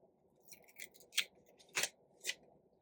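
Three or four crisp scissor snips cut through a thin sticker sheet, close by, spaced irregularly over a faint low background hum.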